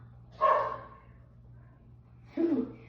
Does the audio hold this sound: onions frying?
no